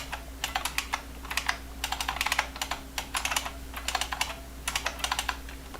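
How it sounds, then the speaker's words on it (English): Typing on a computer keyboard, bursts of quick clicking keystrokes in uneven clusters with short pauses between them, close and clear over a low steady hum, no talking. "I knew you were using a different keyboard."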